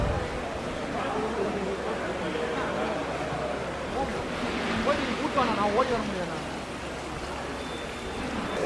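Rainwater streams and drips steadily in a downpour at a crowded outdoor spot, a soft continuous wash of noise with people talking over it.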